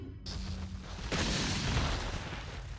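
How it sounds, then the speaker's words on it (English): A flashbang grenade goes off in Resident Evil 4 with a sudden loud bang and a broad burst of noise that lingers as a roaring wash, preceded by quieter game ambience. "We'll try the flashbang here."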